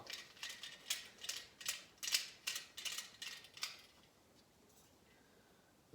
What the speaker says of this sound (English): tighten up the wing nut again, and now you've got the buck saw